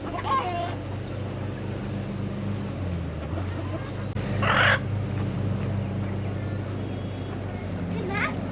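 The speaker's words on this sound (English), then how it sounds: "I'm gonna see if I can get all these chickens in the coop" Chickens cluck and squawk from inside a backyard coop, with a sharp burst of calling midway standing out over a low constant hum and some nearby talking.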